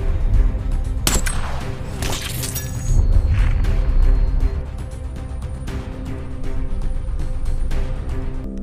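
A gunshot in a film scene: a sharp, loud crack near the start, followed by crashing impacts and rumbling mechanical noise under a tense score.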